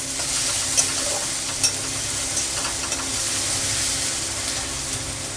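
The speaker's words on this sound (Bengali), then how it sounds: "একটু নেড়ে নিই।" Cumin-coriander powder being stirred into melted tomato in a pan, a steady close sizzle with soft scraping strokes and a few brief clinks, no talking.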